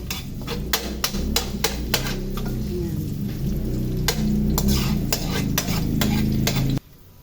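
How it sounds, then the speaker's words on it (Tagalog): Garlic with its skin still on and shrimp paste sauté in a hot pan, a loud continuous sizzle broken by repeated sharp clinks of a utensil stirring against the metal, ending abruptly. "Gigisa lang natin dito"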